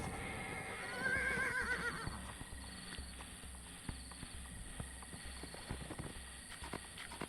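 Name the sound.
horse neighing and hooves, from a video game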